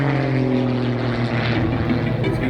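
Propeller-driven aerobatic airplane pulling into a torque roll at an outdoor airshow, a loud, steady droning engine roar with a rough buzzing tone, held throughout without pause, no talk audible over it.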